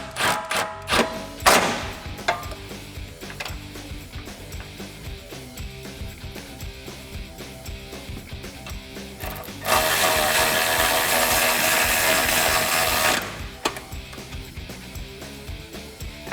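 Bolts are tightened on the rear exhaust hanger of a 2015–2017 Mustang GT Fastback's Corsa Xtreme cat-back with a close ratchet. First come a few clacks and knocks, then quieter clicking, then a loud steady burst of rapid ratcheting for a few seconds.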